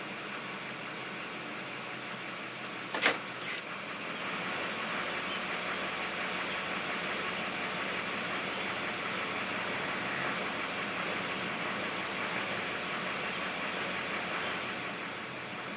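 A diesel engine idling roughly in gear, recorded close by an open window, gives a steady low rumble with slight chugging throughout, broken by a brief click near the start, and no talk.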